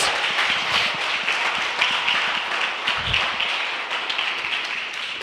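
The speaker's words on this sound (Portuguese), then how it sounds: "Aplauda o Senhor" Church congregation applauding during a sermon, a continuous dense clapping wash held steady for several seconds, fairly distant with no talk over it.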